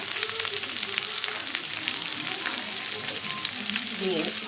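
Spice paste of ground spices, ginger, onion paste and garlic paste frying in hot oil for chicken kosha: a continuous close, crackling sizzle with faint stirring, and a brief voice near the end.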